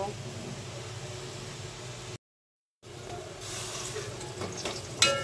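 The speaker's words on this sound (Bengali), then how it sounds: "নাড়াচাড়া করে দিচ্ছি, পেঁয়াজটা ভালোভাবে ভেজে নিব।" Onions frying in oil in a pan for a Bengali prawn curry with winter greens, stirred now and then, giving a steady soft sizzle with scraping; the sound briefly drops out midway, and a voice talks over it.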